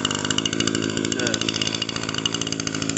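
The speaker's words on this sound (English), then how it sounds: "Echo Leaf Blower." An Echo leaf blower, model PB22520, runs with a loud, continuous buzzing engine drone that stays steady and close throughout.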